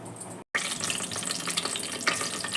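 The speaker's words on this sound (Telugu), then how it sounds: "రుద్దుకొని కొన్ని నీళ్ళు పోసుకొని ఈ పోపు దాంట్లోకి వేసేసుకోవాలి." Water is poured into a hot spice tempering for tomato dal with green chillies, giving a loud continuous sizzling hiss after a brief silent gap.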